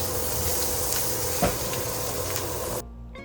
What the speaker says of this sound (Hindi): बस प्याज़ों को ज़रा सा ऐसे हल्का सा फ्राई करना है।